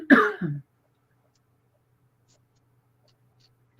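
A single dry cough or throat-clearing burst at the start, close and fairly loud, brought on by a dry mouth from talking a lot, followed by near silence with a faint low hum and a brief sound at the very end.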